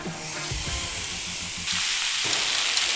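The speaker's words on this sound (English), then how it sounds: "I'm gonna let that sizzle away" Steady sizzling from a steak frying on a hot griddle pan, a continuous crackling hiss with low clatter, growing louder partway through.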